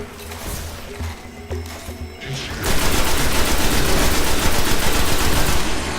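Rapid automatic gunfire in the video game Destiny, a dense sustained burst that starts abruptly after a few scattered shots and continues loudly for several seconds over game background noise.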